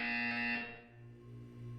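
A loud, steady electronic buzzer from the Portal 2 video game sounds for about half a second, then cuts to a lower residual hum.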